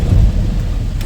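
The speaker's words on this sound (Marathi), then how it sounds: "भरपूर पाऊस आहे आज मुंबईमध्ये. धुमाकूळ घातलाय पावसाने." Heavy monsoon rain pours down in Mumbai with a deep rumble of thunder, a loud, dense wash of rainfall heard close by, with no voices.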